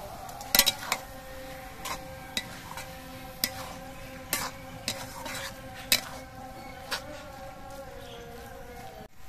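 A spoon scrapes and taps against a pan while bottle gourd curry with coriander leaves is stirred, giving a string of sharp, irregular clinks over a faint steady background hum.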